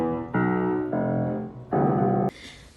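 Piano in a campus building on Carleton University's Minto grounds, played clumsily: three loud sustained chord clusters struck one after another with uneven timing, ending abruptly, no talking.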